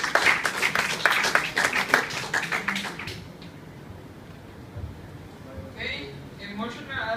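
Brief burst of audience applause greets a speaker introduced in an emergency care lecture, lasting about three seconds before a quiet room and a voice resuming.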